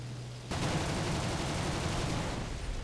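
Aircraft cannon in War Thunder, fired from a Spitfire F Mk. IX against a Bf 109, opens up abruptly in a loud sustained burst of rapid rattling shots that lasts the rest of the moment.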